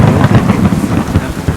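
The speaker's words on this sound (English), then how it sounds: "This rain and lightning." Thunder rolls over heavy rain in a stormy scene in Kingdom Come Deliverance 2, with a loud, deep rumble pulsing through a constant patter of drops.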